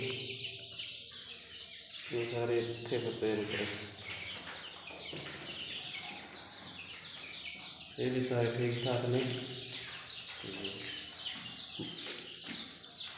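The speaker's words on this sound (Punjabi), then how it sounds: "ਕਮਰੇ ਦੇ ਵਿੱਚ ਰੱਖੇ ਹੋਏ ਆ ਛੋਟੇ ਚੂਚੇ" Small newly bought chicks peep and chirp in a room, a steady chorus of thin high calls running throughout while someone talks nearby over them.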